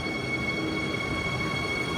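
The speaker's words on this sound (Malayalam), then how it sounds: "നമുക്ക് പോകാനുള്ള ട്രെയിൻ ജസ്റ്റ് മിസ്സായി പോയി" A train pulls away from an underground metro station, giving a steady rumbling roar with a sustained high metallic whine from the wheels, continuous and fairly loud.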